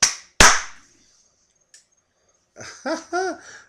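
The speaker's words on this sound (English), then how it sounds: "I clapped 4 times and I was only supposed to clap twice" Two sharp hand claps aimed at a clapper light switch, loud and close, followed by a faint tap and then a voice speaking.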